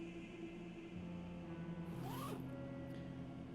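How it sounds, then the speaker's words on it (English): A body bag's zipper is pulled open by its tag along the bag's length: one close, rasping slide lasting about half a second, over a steady low hum in a quiet room. "the zip makes a familiar zip sound"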